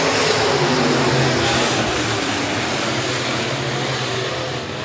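Dirt-track B-Modified race cars at a speedway heat race, a loud, continuous engine roar with broadband rumble that holds steady and fades slightly over about five seconds, no voice over it.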